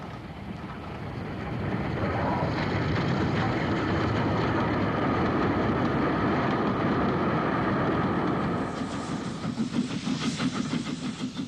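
Holbeck-based Jubilee steam locomotive Kolhapur hauls an excursion to Blackpool across Longwood Viaduct in the 1960s, a sustained loud roaring rumble mixed with wind, turning to a rhythmic pulsing near the end.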